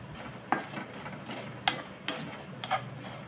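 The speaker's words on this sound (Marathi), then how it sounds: "हे तापलं ना, त्याच्यावरनं मेथी परतून घेऊया" Fenugreek seeds are stirred and roasted in a hot pan, with a few sharp clinks of a spoon against the pan at irregular intervals over a faint sizzling background, close and fairly quiet.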